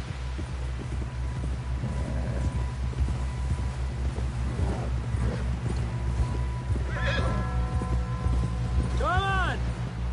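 A horse in Red Dead Redemption 2 clip-clops along and then gives a loud whinny near the end, over a steady low game hum and engine-like drone.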